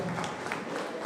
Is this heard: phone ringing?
no